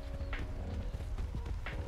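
Player footsteps in Ark Survival Evolved video game: quiet, repeated thudding steps at an uneven walking pace, with soft scuffs between them.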